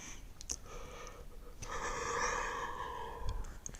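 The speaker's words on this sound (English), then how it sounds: "I always begin this with a little yawn." A single drawn-out yawn at the start of a meditation, a soft breathy inhale swelling in the middle and fading, with faint breaths and small clicks around it, quiet and close.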